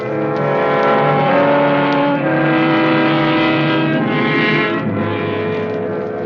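A car driving sound effect from a 1946 radio suspense drama plays alone, with no voices. A sustained engine drone with a steady, tonal hum changes slightly in pitch as it continues.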